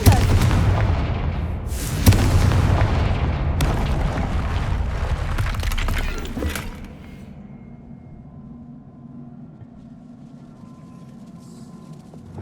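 Repeated loud booming fire-spell explosions from Confringo in Hogwarts Legacy, a dense barrage of blasts with sharp bursts near 2 and 3.5 seconds, then cutting off around 6.5 seconds to a low rumbling ambience.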